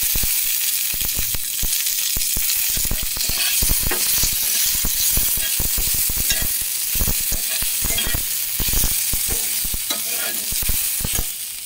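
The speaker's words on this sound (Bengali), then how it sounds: "এবার টমেটোটা দিয়ে দিচ্ছি" Tomatoes sizzle in hot oil in a kadai for a new kind of chutney, with steady loud frying and irregular scraping, clanking stirring strokes throughout, no voices.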